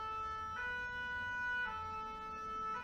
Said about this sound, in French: C'est une ambulance.